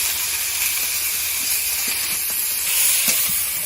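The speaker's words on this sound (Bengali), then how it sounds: "একটু নেড়ে নেব।" Pumpkin greens cook in a pan with salt and turmeric, giving a loud steady hiss of steam and sizzle with a few faint stirring taps, close by.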